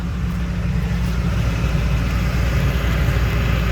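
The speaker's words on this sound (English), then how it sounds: "Take you around to the tailpipe so you can see that it actually is running." A 2008 Duramax 6.6L turbo diesel idles at the tailpipe, a close, loud, steady low rumble with an even throbbing pulse and no talk.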